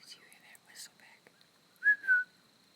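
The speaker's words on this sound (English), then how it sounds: "Did you hear that whistle back?" Two short rising whistles ring out outdoors at night, clear against quiet surroundings, with soft whispering voices before them.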